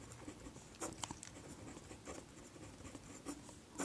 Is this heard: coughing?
no